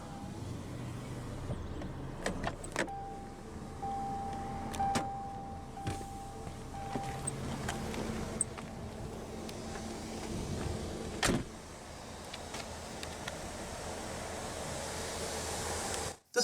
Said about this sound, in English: let's go ahead and roll down the driver's window